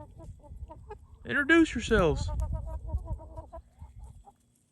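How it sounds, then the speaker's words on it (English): Chickens cluck and squawk nearby, with a louder burst of hen calls in the middle, while a person speaks briefly over the farmyard noise. "Are the chickens out here? They're getting after it."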